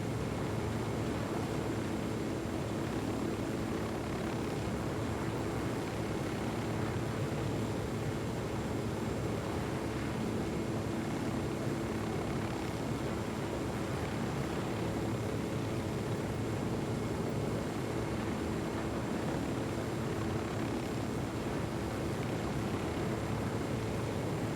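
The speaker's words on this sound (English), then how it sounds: "I am seeing a Black Hawk helicopter" A Black Hawk helicopter in the video game Ghost Recon Wildlands gives off a steady, continuous rotor and engine roar that never lets up.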